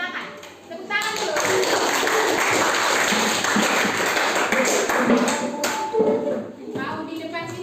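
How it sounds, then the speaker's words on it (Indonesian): A class of pupils applauds in a classroom, several seconds of dense, brisk clapping that then thins out, with voices talking around it. "Tepuk tangan dulu."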